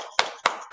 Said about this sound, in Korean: 두 번째 박수다